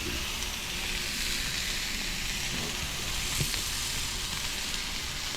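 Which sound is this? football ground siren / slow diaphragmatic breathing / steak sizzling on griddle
steak sizzling on griddle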